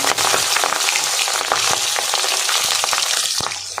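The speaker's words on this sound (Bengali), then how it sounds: "দেখুন বন্ধুরা, মাছ ভাজা হচ্ছে, 2টো করে ভেজে নিচ্ছি" Pabda fish, fried two at a time in salted oil, sizzle and crackle steadily with sharp spitting pops throughout. The frying is close and loud, with no talking.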